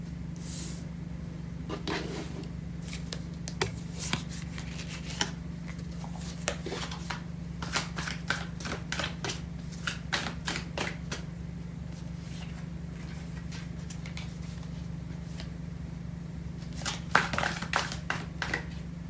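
Tarot cards shuffled by hand: a series of soft riffling bursts and flicks at close range, irregular and grouped, over a low steady hum.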